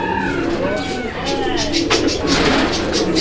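Fancy American Toy pigeons coo in a loft, a soft repeated cooing with some background commotion and a voice talking nearby.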